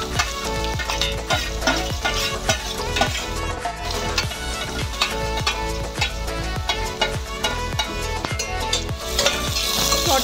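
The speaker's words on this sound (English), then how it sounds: "Saute the onions until they are tender." Chopped onions sautéing in two tablespoons of hot oil in a pan, loud continuous frying with rapid, rhythmic stirring clicks and scrapes of a utensil against the metal.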